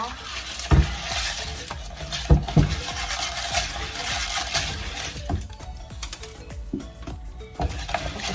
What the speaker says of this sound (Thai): เราก็จะมาล้างน้ำเกลือออกนะคะ